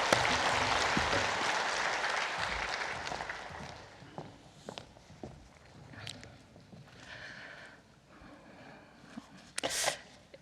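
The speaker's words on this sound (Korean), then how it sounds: "박수 칠까요?" Church congregation clapping, loud and dense at first, then thinning into scattered claps and rustling before a brief final burst.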